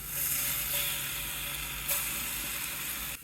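Fish pieces caramelizing in a frying pan at a catch-and-cook meal, giving a steady close sizzle with broadband crackle that runs unbroken for about three seconds before cutting off abruptly.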